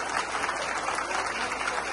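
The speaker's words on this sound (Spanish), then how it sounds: "¡Fuerte el aplauso!" A large crowd claps loudly and continuously at a Farmer's Day rally in the Dominican Republic, a dense, even roar of applause.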